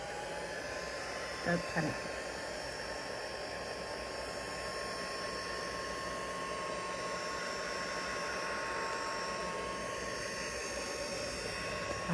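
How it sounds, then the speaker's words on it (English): A heat gun blows steadily over a gel print layer for the whole stretch, a constant close airy roar with a brief bump near the start where a voice speaks. "I'm just going to use my heat gun to dry this off a little bit."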